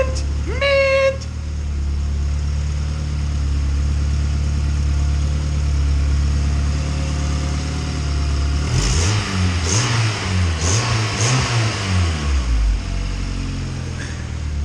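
Turbocharged Honda Civic EK hatchback with full exhaust idling steadily after its first start, a deep close rumble that lifts into a few short revs near the end, with a high squeal early on.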